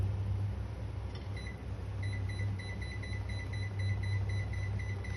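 A kitchen cooker's timer beeps in a repeating series of short, faint electronic tones over a steady hum from an appliance while ampalaya is being cooked.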